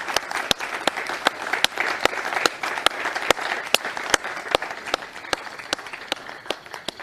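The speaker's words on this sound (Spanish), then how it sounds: "Un fuerte aplauso, por favor, entonces," Applause for commissioner Calderón at a ceremony commemorating the abolition of the army, a crowd clapping steadily with sharp individual claps standing out over the dense patter throughout.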